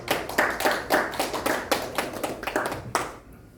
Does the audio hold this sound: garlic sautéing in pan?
no